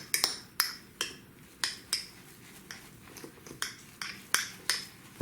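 A utensil stirs a little oil in a small bowl, making a steady series of light metallic clinks and taps against the sides, roughly two per second, close and clear with no talking.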